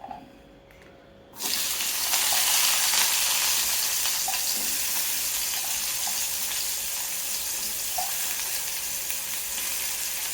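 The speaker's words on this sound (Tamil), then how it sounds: "இப்போ எண்ணெய் சூடாகிடுச்சு. இப்போ பிரண்டை அள்ளி போட்டுடலாம்." Pirandai (adamant creeper) hits hot oil and bursts into a loud, dense, continuous sizzle after a quiet start, the crackle holding steady and close with a few light clinks, no speech.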